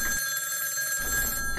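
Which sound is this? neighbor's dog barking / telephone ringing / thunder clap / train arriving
telephone ringing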